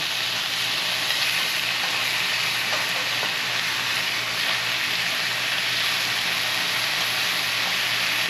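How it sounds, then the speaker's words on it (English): Cube steaks searing in a hot pan give a steady, loud frying sizzle that stays dense and even throughout, with no talking. "Just gonna get a little sear on them."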